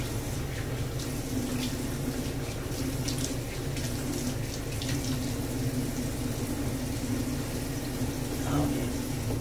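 Warm water pours from a faucet into a bathroom sink while a face is rinsed, a continuous near splash with light handling sounds and a brief voice mixed in.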